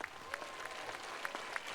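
Faint, distant applause from a commencement crowd honoring graduates with academic honors, a steady patter of many hands clapping.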